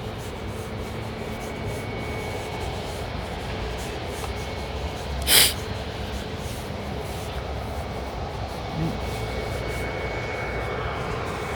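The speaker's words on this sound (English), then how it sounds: "There's a plane over there. It's still running full speed," A jet airplane engine running at full power beside a river produces a steady, broad roar that holds at an even level throughout, with one brief sharp crackle partway through and no talking.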